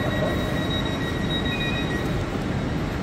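A train rumbles steadily at Paddington station, a loud continuous low roar with faint high wheel whines drifting above it, close and unbroken for the full few seconds.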